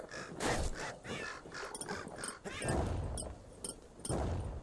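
Crow-like birds caw repeatedly in the Bastion video game, harsh raspy calls coming in bursts alongside game effects and clicks, fairly close and loud.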